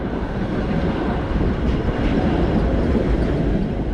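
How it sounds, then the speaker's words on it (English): An older train rumbles steadily past at close range in an old town, a continuous loud roar of rolling wheels and rail noise with no voices. "That was kind of a older train."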